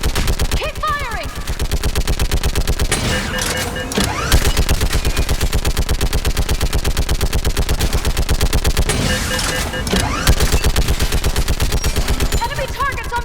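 Mass Effect 3 battle gunfire: dense, rapid automatic bursts crackle almost continuously for over ten seconds, with several overlapping weapons firing close and loud, and faint shouted voices mixed in.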